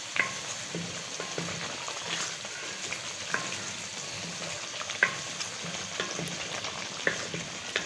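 Crushed chillies and half a spoon of salt sizzling in a pan for spaghetti sauce, a steady, fairly quiet frying crackle with occasional stirring scrapes and no talking.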